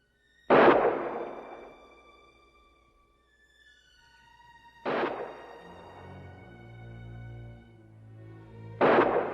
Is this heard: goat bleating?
no